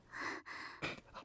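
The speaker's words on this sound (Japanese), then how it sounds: "この吐息の音いいっすね。息切れの音。" A female character in the Amagami dating-sim game pants breathlessly, with a long airy exhale and then two short gasping breaths, close and soft, with no speech.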